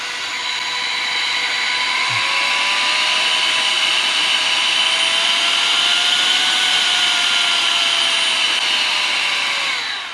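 A wireless compressed air duster blows continuously with a loud, steady high-pitched whine and rushing air, running close and alone throughout.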